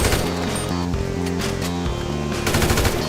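Rapid gunfire in a video game duel, bursts of cracking shots clustering toward the end over loud looping game music.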